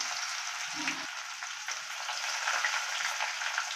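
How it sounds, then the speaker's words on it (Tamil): Mustard seeds, urad dal and crushed skin-on garlic frying in oil for a drumstick pickle, an even steady hiss with soft crackles and a brief low clunk early on. "தாளிக்கிறதுக்கு கடுகு போட்டுக்கலாம் உளுத்த மருந்து போட்டுக்கலாம்"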